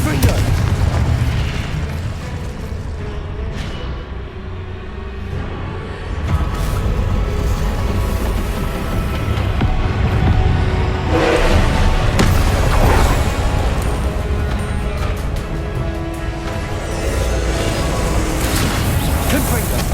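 Repeated Confringo spell blasts from Hogwarts Legacy combat, deep booming bursts under a dense low rumble, several sharper impacts around the middle, with game battle noise running throughout.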